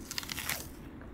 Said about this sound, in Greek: Τραγανό, ζουμερό και πεντανόστιμο όπως πρέπει να είναι ένα μήλο.